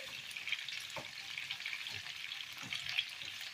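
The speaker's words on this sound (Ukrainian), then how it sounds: "моє м'ясо вже досмажується" Pork ribs fry in a pan for a homemade rib dish, a steady bright sizzle with small crackles and pops throughout, close and moderately quiet, with no talking.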